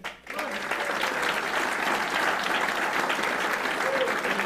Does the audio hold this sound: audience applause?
yes